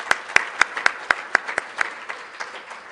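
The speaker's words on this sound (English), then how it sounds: "Okay, let's give them a round of applause" A few people clap for CTE specialists in a gathering, a sparse, regular patter of distinct claps that thins and fades over about three seconds.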